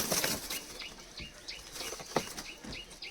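Bursts of wing flapping from several high-flyer pigeons released together from a loft, with faint chirps scattered through.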